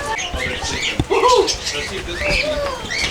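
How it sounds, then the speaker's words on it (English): Birds, including Amazon parrots, chirp and squawk in an aviary inside an alligator park in Florida, with short bright calls overlapping close by. "This is the aviary inside the alligator park. There's quite a few birds flying around."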